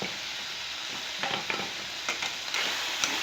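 Spinach and potato sabzi with crushed red chilli stirred in a hot pan, a steady low sizzle punctuated by several soft spatula scrapes and taps, with no voices.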